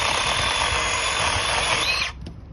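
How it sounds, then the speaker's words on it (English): A Seesii 8-inch chainsaw runs steadily and loudly close by for about two seconds with a high whine, then cuts off abruptly, leaving quiet room tone. "The reason why I bought this chainsaw for the cuts in the branches"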